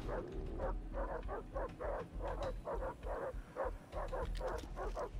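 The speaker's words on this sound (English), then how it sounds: "I hear what sounds like a dingo or dog in one of the cages." A caged dingo or dog in the video game Far Cry 3 gives a rapid series of about a dozen yapping barks and yips at a moderate distance, evenly repeated over several seconds.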